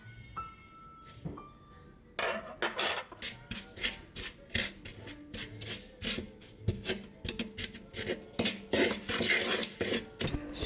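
Yeast and sugar stirred in a large mixing bowl for cinnamon buns, with repeated scraping, rubbing strokes and light clinks of utensil against the bowl in a steady rhythm, close and clear.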